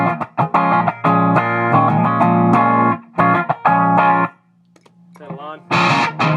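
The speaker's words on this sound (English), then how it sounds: "Unaffected signal." An electric guitar plays with a clean, unaffected signal through a bypassed Boss DS-1 distortion pedal: several ringing strummed chords separated by short gaps, then a brief quieter phrase and a final loud strum.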